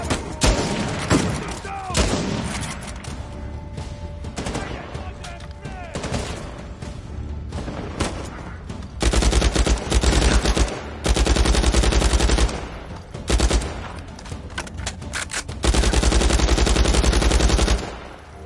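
Loud bursts of gunfire during an Uncharted 4 firefight come in repeated volleys with thumping impacts. Voices call out over the shooting.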